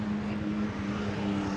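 Steady engine drone of a motorcycle with a strong low hum, heard from on the bike as the rider sets off in Bangkok, continuous and fairly loud with no talk.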